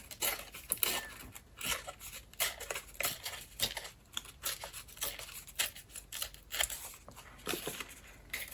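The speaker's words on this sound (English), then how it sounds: "Just gonna tear this edge here." Paper being torn along its edge for a junk journal page, a series of close, crisp ripping and crinkling bursts in an uneven rhythm with no talking.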